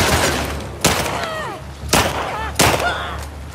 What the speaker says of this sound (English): Where the fuck those shots come from?